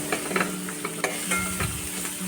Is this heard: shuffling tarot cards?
no